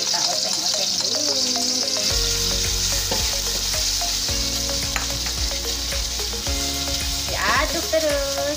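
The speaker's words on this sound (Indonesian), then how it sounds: "masuk bumbu halus ya Bun. Biasa Bunda, kita oseng-oseng dulu" Ground spice paste for Betawi-style semur jengkol stir-fries in a hot pan, a loud steady sizzle broken by repeated close scraping and stirring strokes of the utensil, with no talking.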